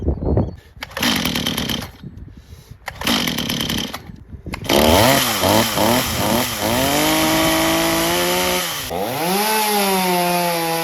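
A repaired Stihl chainsaw on freshly mixed fuel takes a few rough pull-start attempts, then catches and runs loudly, revving up and down in rising and falling whines.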